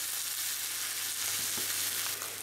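Rump steaks sizzle loudly in a ridged steak pan, a dense, continuous frying hiss with faint scraping near the end.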